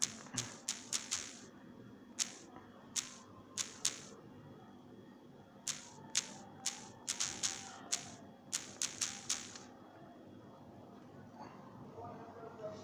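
Keystrokes on a keyboard while an email address is entered into a registration form, light clicks coming in quick bursts and short runs with pauses between them, fairly close and quiet, over a faint low background hum.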